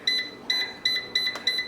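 Electronic beeping from a new air fryer's timer: five evenly spaced double beeps, high, bright and close, sounding alone with no talk over them.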